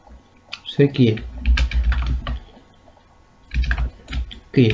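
Bursts of typing on a computer keyboard, close and fairly loud, with irregular rhythm and a pause in the middle, while C code is being written.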